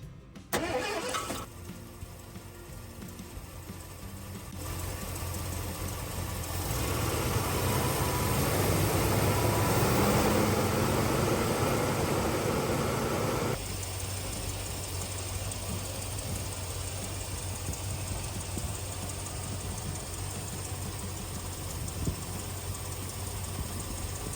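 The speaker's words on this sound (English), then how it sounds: "it's sitting here idling nice" A car engine cranks and catches, revs up louder for several seconds, then settles into a steady, even idle nearby.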